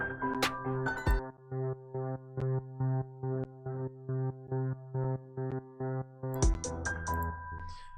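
Spitfire Labs Cello Backbeat sample playing a steady pulsing pattern of repeated sustained cello-like tones, about a dozen even rhythmic swells, fairly quiet, with brief other notes at the start and end.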